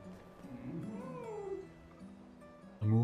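A pet cat meows close to the microphone in a home with a low, drawn-out call that rises and falls once, followed by quiet and a sudden bump at the end.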